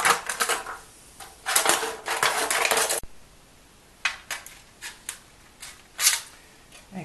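Scissors snip through crinkly aluminium foil, cutting out a fish shape for gift wrapping, in bursts of crisp cuts, a quick cluster first, then slower separate snips, close and fairly quiet.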